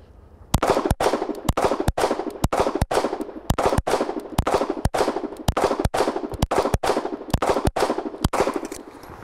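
A SIG P226 pistol fires a rapid string of sharp, loud rounds at an even fast pace, each crack ringing out and decaying before the next, with no talk.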